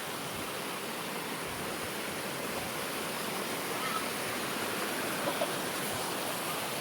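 A waterfall roars in a dense, unbroken rush of falling water, loud and close, steady for the whole stretch with no voices over it.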